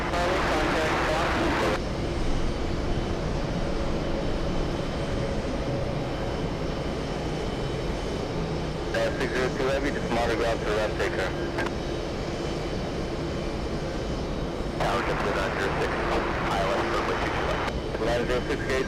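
A heavy Boeing 747 freighter arriving on runway 22 left at JFK makes a broad, sustained roar that swells and fades, with bursts of brighter noise partway through and people talking in the background.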